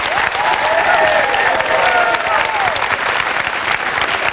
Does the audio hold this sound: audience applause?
yes